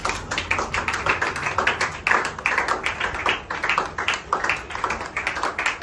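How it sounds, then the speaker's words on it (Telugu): A small group claps in quick, uneven bursts of hand claps at an indoor church gathering, close and moderately loud, with no talk over it. "చప్పట్లో."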